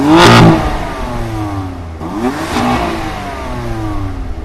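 BMW M4 engine revving, with a sharp loud blip at the start and a second rising rev about two seconds later, each settling into a steady throaty idle.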